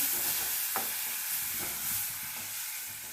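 Ground masala paste for kadalekalu usli sizzles in a pan as a spoon stirs it, soft scraping strokes over a steady close frying hiss.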